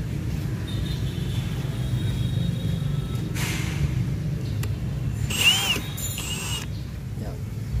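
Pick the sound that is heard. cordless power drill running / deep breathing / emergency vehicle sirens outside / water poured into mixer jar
cordless power drill running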